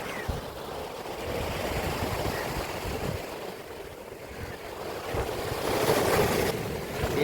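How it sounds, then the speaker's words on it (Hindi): Ocean waves wash ashore at Rameswaram in a steady, rushing roar with gusts of wind, swelling louder toward the end. "वो लहर आई नहीं पहुंच पाओगे मुझको"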